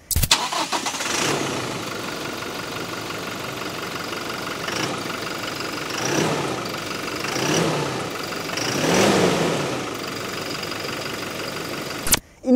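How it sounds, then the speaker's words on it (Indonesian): A Toyota Innova Reborn diesel engine cranks and catches, then idles with a low steady rumble, revving up a few times in slow swells before cutting off abruptly. "suara mesin diesel itu tidak bisa digantikan"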